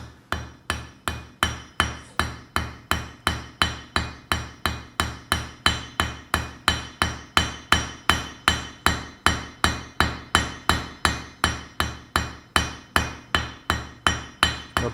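A blacksmith's hammer strikes hot steel while forging a spiral, delivering rapid, evenly spaced ringing blows for the entire stretch, loud and close with no talking.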